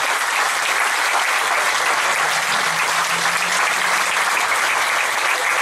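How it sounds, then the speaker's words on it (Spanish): A church congregation claps together in steady, dense, sustained applause that holds at an even loudness throughout, with no talk over it. "Fuerte el aplauso a la palabra de Dios que es viva y eficaz."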